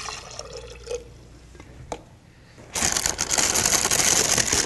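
A cup of water splashes into a blender jar in a home kitchen, a loud, burbling rush of pouring liquid that starts abruptly after a few quiet seconds of faint clinks and continues steadily.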